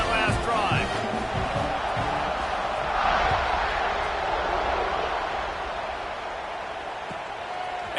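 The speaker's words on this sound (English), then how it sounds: "this crowd is feeling themselves after that last drive" Football stadium crowd at an LSU at Georgia game, a broad sustained roar from a large cheering crowd, heard from a distance under ongoing commentary.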